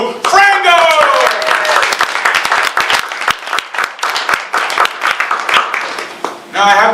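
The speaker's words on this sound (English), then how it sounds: "let's all share a round of applause for the support of Ann and Lou Frangos" An audience at a Tri-C Food Pantry donor recognition gives a full round of applause, dense crowd clapping that starts loud, continues in rippling bursts and thins briefly near the end before rising again.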